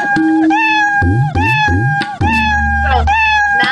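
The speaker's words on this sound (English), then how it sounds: "since he's constantly touching this drum, he's going to constantly meow" Scratch, the cartoon cat from the Scratch coding program, meows repeatedly in quick succession, a loud looping sound effect triggered again and again while it keeps touching a drum, with tones underneath.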